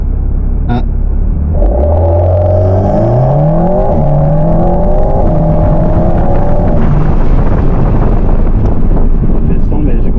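An Alpine A110 S sports car accelerates hard toward 100 km/h, its engine note climbing through several gear changes with a loud, close rumble and heavy wind noise throughout.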